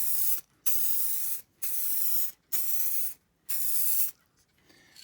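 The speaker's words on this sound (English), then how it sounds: "the next job is to spray it, as I say, to seal the ink" Spray sealant from an aerosol can misted over a clock dial decal in five bursts, each a steady hiss of about half a second to a second with short silent gaps between.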